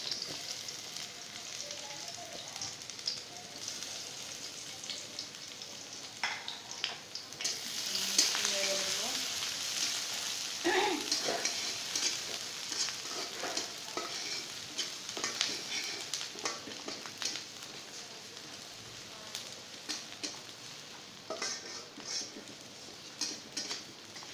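Three cloves of chopped garlic and two onions frying in a pan, a moderate sizzle that grows louder partway in, with occasional utensil scrapes and clinks against the pan, no speech.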